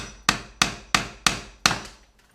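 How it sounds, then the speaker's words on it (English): Five sharp hammer taps, the hammer's edge working under a toe-nailed nail in a wooden stud, evenly spaced, close and crisp, each ringing briefly before the next. "give it a few taps, the edge of the hammer, work your way under it"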